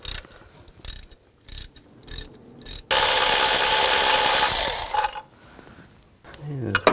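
Ratchet with an 18mm socket clicking in short bursts while bolts are loosened on a 2010-16 Cadillac SRX engine, followed by a long loud hissing rush and a voice near the end.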